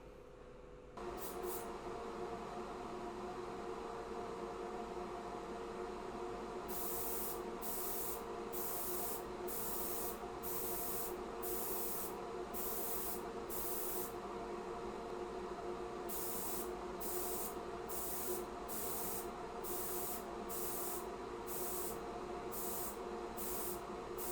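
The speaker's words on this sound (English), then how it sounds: "I'm just going to lay down just your regular Outlaw Paints gloss here" Outlaw Paints regular gloss coat sprayed onto a scale model, a steady close airbrush hiss running throughout, broken by two sets of short, evenly spaced bursts.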